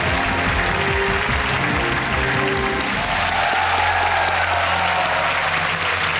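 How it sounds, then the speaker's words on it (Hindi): Steady applause from a studio audience on the Hindi TV quiz show Kaun Banega Crorepati fills the whole stretch, dense and continuous, with a brief tonal hum early on before the clapping carries on alone. "तालियां बजाएं।"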